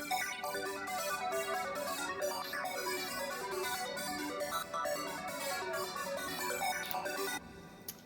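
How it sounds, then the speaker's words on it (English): An arpeggiated synth sound from the Hybrid synthesizer plays a rapid, continuous pattern of bright repeating notes before dropping off near the end. "Let's start off with this arpeggiated sound that I found in Hybrid."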